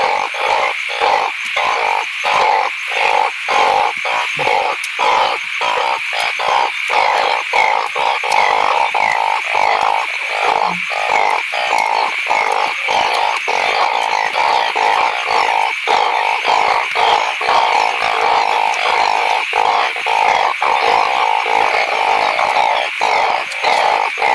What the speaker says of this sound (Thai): เป็นอึ่งละ